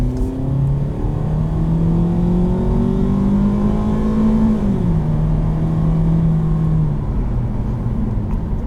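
A 2019 Ford EcoSport engine pulls hard above 4,000 RPM, its steady drone climbing in pitch, dipping at a gear change, then rising again, heard continuously from inside the car with no talk.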